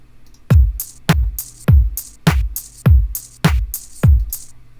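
An Ultrabeat preset disco drum kit plays a steady plodding pattern: evenly spaced punchy kicks alternate with bright hi-hat and snare hits, loud and dry, with no voices.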